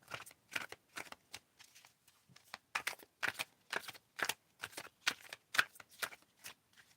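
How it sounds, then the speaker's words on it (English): A deck of playing cards riffled and shuffled repeatedly at close range, a quick series of crisp flutters in an irregular rhythm, with no other sound. "Tell me when to stop shuffling, Angie."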